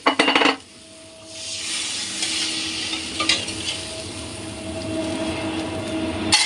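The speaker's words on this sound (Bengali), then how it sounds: "এখন মশলার ভিতরে জল ঢেলে দিলাম।" Water is poured into spice masala frying in a pan, starting with a loud splash and hiss, then settling into a steady, close sizzle and bubbling that continues throughout.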